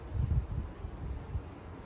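A tiny softball-sized swarm of honeybees in a bee yard, buzzing as a low, close, fluttering drone that rises and dips in short pulses, with no voices.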